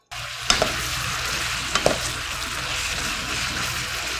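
Onions and carrots fry with pork belly in a pan for Korean hot-pot bulgogi, a steady close sizzle broken by a few sharp stirring clicks near the start and middle, with no voices.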